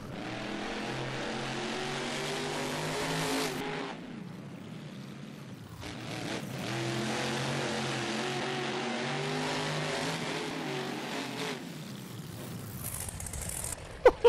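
The monster trucks Goldberg and Gravedigger race side by side in BeamNG.drive, their engines roaring and revving continuously, with a brief drop in the middle before the roar builds again and a couple of sharp knocks at the end.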